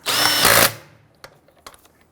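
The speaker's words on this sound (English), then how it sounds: "Torque your lug nuts to 80 foot-pounds" Power tool tightening a car wheel lug nut during shock absorber replacement on a 2008-2013 Infiniti G37, one loud close whirring burst lasting under a second, then faint clicks and clanks of the tool.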